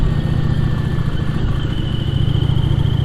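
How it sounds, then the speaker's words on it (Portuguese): A motorcycle on a road in Arouca, Portugal, with a steady mid-pitched engine drone, close and fairly loud throughout, with a light mechanical clatter and no talk. "Vai aqui uma moto engraçada."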